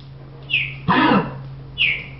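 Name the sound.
Sims character coughing in The Sims 2 video game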